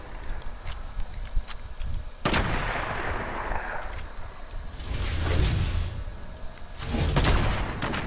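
Sniper rifle shots ring out in a video game, several sharp cracks with booming tails spread across the clip over ambient game noise.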